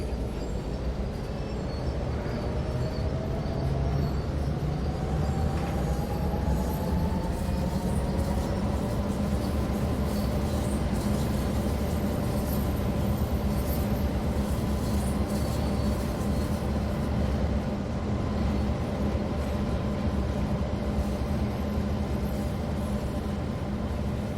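A Clinchfield Railroad train in Train Sim World 2 rumbles steadily as it pulls away, a low engine drone with a rising whine, continuous and close throughout.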